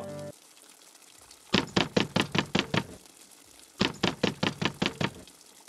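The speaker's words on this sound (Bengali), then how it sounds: "দরজায় একটানা টোকা পড়ল।" Two rounds of rapid, evenly spaced knocks on a door, about eight raps each, separated by a short pause, sharp and close against a quiet room.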